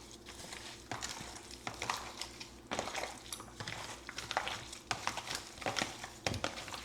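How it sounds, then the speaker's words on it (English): Seasoned oxtail pieces being mixed by hand in a bowl, giving soft wet squelching and irregular clinks and scrapes against the bowl, fairly quiet and close, with no talking. "I'm just gonna go ahead and mix everything."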